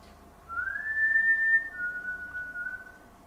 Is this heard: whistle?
yes